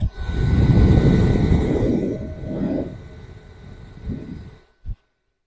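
A Xiaomi AISOLOVE F01 handheld battery turbo fan runs on its first speed with a loud, close, airy whir. The whir wavers and softens, then cuts off near the end with a brief click.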